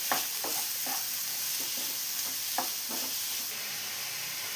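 Chopped onions sauté in coconut oil in a pan for chicken keema, giving a steady close sizzle broken by repeated soft scrapes of a spoon stirring at an uneven rhythm.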